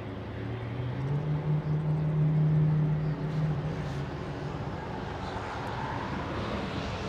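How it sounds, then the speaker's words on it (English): A SkyWest Embraer regional jet arriving at LAX, its engines a broad roaring rumble with a steady low drone that swells and then eases, heard from a distance in open air without talk. "Little Sky West 6280 flying in from Portland."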